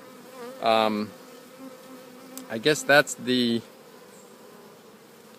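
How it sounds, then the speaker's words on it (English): A honey bee swarm buzzes steadily at the bottom of a hive as bees try to get inside, with the hum running continuously and up close. A person talks briefly over it. "we've captured the swarm at the bottom of this hive with the bees attempting to get in"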